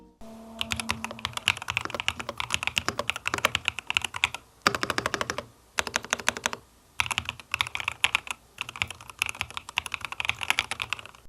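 Fast, clacky typing on an Asus Azoth X mechanical gaming keyboard in bursts, with crisp keystrokes close up and short pauses between runs, no talking.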